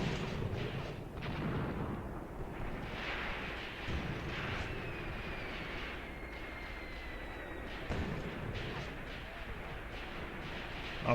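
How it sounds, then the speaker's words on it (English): Long-range tank gunfire in the World War II game Graviteam Tactics, set around Kharkov in 1942: several dull distant booms and rumbling bursts over a steady noisy battle bed, with no voices. "Okay, the other Panzerjäger opened up. It's a long-range tank duel."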